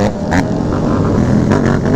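A Yamaha FZ motorcycle engine revs nearby at a group ride in Omaha, its steady loud drone climbing in brief surges, with other bikes and street noise in the background.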